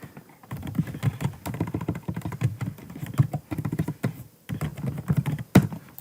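Fast, uneven keystrokes on a computer keyboard as code is typed out, a steady clatter of close, crisp clicks with brief pauses and no voices.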